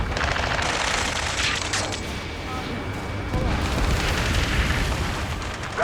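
Aircraft guns fire in rapid continuous bursts in the Ace Combat 7 video game, mixed with booms and explosions in a dense battle din, while voices speak over the action.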